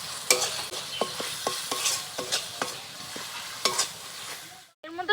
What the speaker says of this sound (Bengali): এখন এগুলোকে খুব ভালো করে নাড়াচাড়া করে নেব।